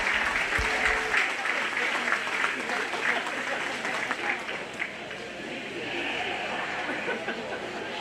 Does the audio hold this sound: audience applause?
yes